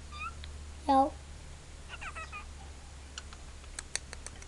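A kitten gives one clear, loud meow, followed by softer faint mews over a quiet background hum. Light clicking, like keyboard taps, comes near the end.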